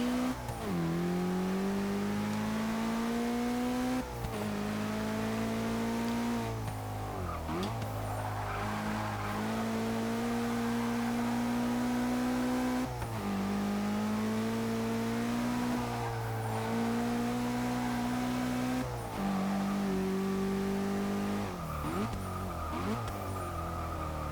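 A 2015 BMW X6 M in the racing game Forza 6, its engine revving hard through repeated upshifts with the pitch climbing and dropping at each change, plus brief tire squeal, loud and continuous for the whole lap.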